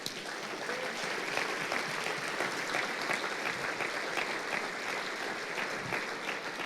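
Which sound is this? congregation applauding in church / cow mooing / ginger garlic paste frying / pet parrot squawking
congregation applauding in church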